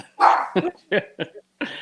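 A dog barks several times in a quick, irregular series of loud, close barks, with the first bark the strongest, heard indoors during a podcast recording.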